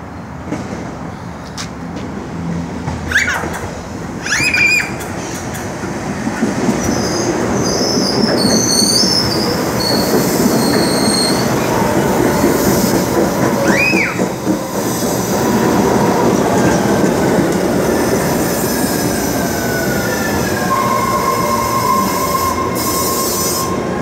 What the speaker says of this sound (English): The next Red Line train to Ashmont is now arriving.